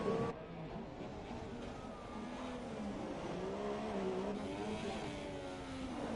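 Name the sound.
F1 car wheel spin in the video game F1 2017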